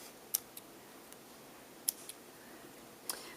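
A few faint, crisp snips of scissors cutting sewing thread beside a sewing machine, three sharp clicks spaced apart over a quiet room background.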